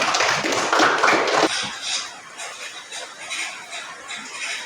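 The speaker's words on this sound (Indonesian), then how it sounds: "Iya, tepuk tangan untuk Arjun." Classroom of students clapping for a classmate, a loud scattered burst at first that quickly fades to lighter, sparse claps.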